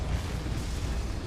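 A Bombarda or Confringo spell blast in Hogwarts Legacy: one short, steady, low-heavy roar that holds at even loudness without a sharp onset.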